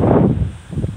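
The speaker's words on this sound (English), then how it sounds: "It's a little windy though" Wind blowing outdoors, a low rumbling gust with breathy hiss buffeting the microphone, steady and fairly loud with no voices.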